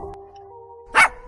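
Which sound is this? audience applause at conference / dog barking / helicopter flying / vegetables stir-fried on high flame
dog barking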